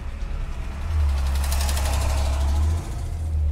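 A 1957 Ford Custom 300 with a 428ci V8 idles nearby with a deep, steady rumble that swells louder for a couple of seconds as it is shifted into reverse, then settles back.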